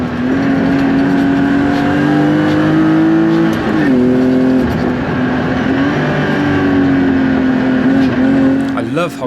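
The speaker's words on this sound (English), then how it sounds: "You can see the MX-5 having the great advantage of grip, pulling it around the corners, but Jay quickly catching up on the straights" Mazda MX-5 and BMW E36 race around Llandow Circuit, a loud, close engine drone rising steadily in pitch under acceleration, dipping briefly on a shift, then climbing again, with a voice talking over it.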